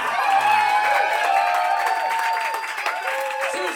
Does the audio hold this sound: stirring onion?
no